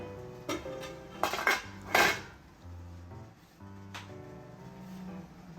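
An idli steamer pot holding vattayappam batter is set in place for steaming, producing several close metallic clanks and knocks of pots and lids over a low, steady hum, with no talking.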